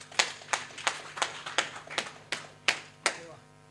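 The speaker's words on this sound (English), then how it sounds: "ladies and gentlemen, another round of applause for Honorable Mangwana" Steady, slow claps for Honorable Mangwana at a Media Alliance of Zimbabwe gathering on journalism, about ten sharp, evenly spaced strikes ringing out clearly in a quiet hall.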